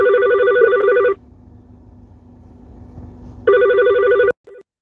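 A phone rings loudly with an electronic tone, one long burst, a pause of quiet hum, then a second ring cut short abruptly, followed by a tiny blip.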